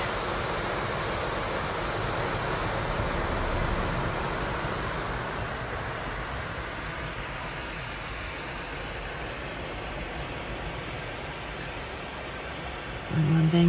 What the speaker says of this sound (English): This is that Jordan River.